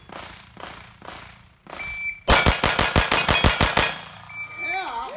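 Ten rapid pistol shots at a speed-shooting match, a tight burst of loud, sharp cracks evenly spaced in about two seconds, after a few dull thumps at the start and a short electronic beep.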